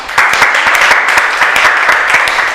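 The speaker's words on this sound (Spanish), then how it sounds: "Así que vamos a darles un aplauso." An audience claps after a nutrition talk, a loud, close burst of many hands beating in a dense, steady patter that holds for a couple of seconds.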